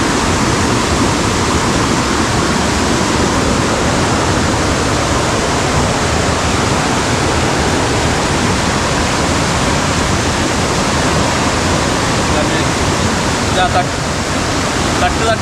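Paathanpara waterfall, a hidden waterfall in Kerala, pours with a loud, steady, close roar of rushing water that fills the whole stretch without a break.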